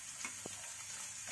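Chopped onions frying in hot oil give a steady, faint sizzle with a few small crackles and pops close by, and no one speaks.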